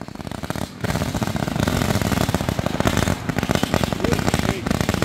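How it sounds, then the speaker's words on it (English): Loud Diwali firecrackers burst in rapid, dense crackling volleys at an outdoor fairgrounds celebration, continuing almost without pause after a brief gap. "Those were loud firecrackers."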